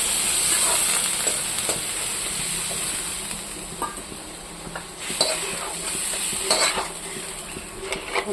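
Water poured into spices frying in a pan with turmeric, bay leaves and salt, giving a steady broadband sizzle with spoon stirring and pot clatter throughout, close and continuous with no talk.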